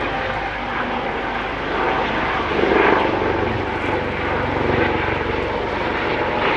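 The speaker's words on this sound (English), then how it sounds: "I'll wait for the helicopter here for a second." Aircraft noise from a helicopter passing overhead during an outdoor sermon, a loud continuous engine and rotor roar that swells slightly and fills the whole stretch, with almost no speech over it.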